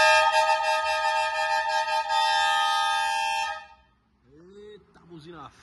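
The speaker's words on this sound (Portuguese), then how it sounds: "Eita, buzina forte," A loud, sustained three-tone "verdureiro" air horn on a Ford Ranger blares for about three and a half seconds, then cuts off, followed by someone speaking.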